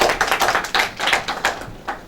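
Audience applause at a conference session on Pacific labour markets and remittances, with a cluster of overlapping claps from a modest crowd, fairly close and steady, thinning slightly toward the end.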